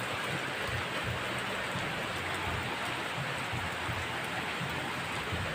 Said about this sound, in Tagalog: Malakas na ulan pa rin.